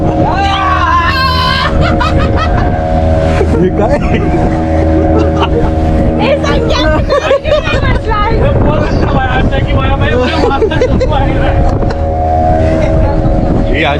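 A loud motorboat engine drones nonstop on a thrilling boat ride off the coast at Malvan, with wind buffeting the microphone, water rushing past, and excited voices and chatter over it.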